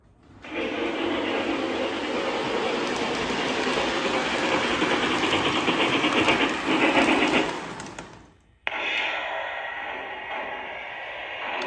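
A model train's digital sound module plays a steady, loud rumbling engine drone with a hiss for about eight seconds, cuts out abruptly, then a lighter mechanical hum resumes.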